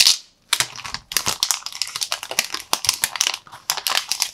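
A new Lenovo Legion Phone 2 Pro is unwrapped from its packaging, with close, busy crinkling and tearing of wrap and paper in quick irregular bursts after a brief pause.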